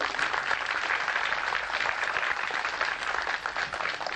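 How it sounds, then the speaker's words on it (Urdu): An audience at a school event claps for a former student, a dense steady round of applause from a crowd that holds evenly for several seconds with no voices over it. "تالی ہونی چاہیے کہ نہیں؟"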